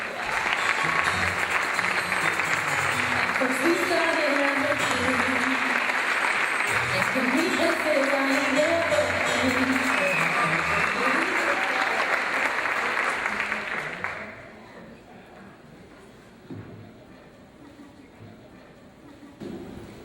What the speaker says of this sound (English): Let's give a roaring round of applause for Jose Feliciano